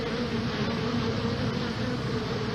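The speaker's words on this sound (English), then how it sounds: "There were so many bees on the back of that ambulance." A dense swarm of bees on the back of an ambulance buzzes in a loud, continuous drone, close and unbroken, with no voices.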